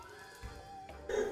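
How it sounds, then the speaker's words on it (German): A single cough from a man playing the online game Aion, close to the microphone and brief, rising over quiet game background near the end. "ich muss dir mal in die Aufnahme husten"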